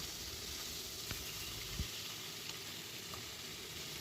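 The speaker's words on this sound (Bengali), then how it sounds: "আমি মাছটাকে ধুয়ে ভালো করে ভেজে নিলাম" Deshi rohu fish, about one kilogram and cut into pieces, fries steadily in a pan with a continuous close sizzle and one brief knock partway through. No voices are present.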